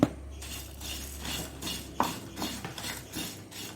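Cumin, mustard seeds, coriander, fenugreek and black pepper dry-roasting in a pan, stirred with a rhythmic series of light scrapes and small clinks, close by.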